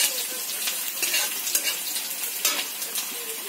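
Onions fry and brown in a pan, a close, steady sizzle with sharp scraping strokes of a spoon at irregular intervals.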